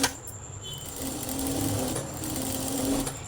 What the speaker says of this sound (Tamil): இப்போ வந்து ஒன் சைடு நான் தையல் போட்டுட்ருக்கேன்